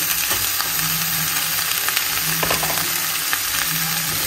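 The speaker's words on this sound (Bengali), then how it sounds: "সবজিগুলো ভালো করে নুন হলুদ দিয়ে ভেজে, হলুদ দেবো এতে একটু সামান্য, ভালো করে ভেজে" Vegetables frying in a pan with salt and turmeric give a steady broad sizzle, with a few soft clinks and scraping stirs breaking through near the middle; no one speaks.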